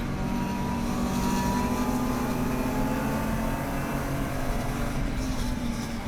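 Race car engine at Lime Rock Park during a GLTC race, a steady loud drone holding a sustained pitch throughout with no talking.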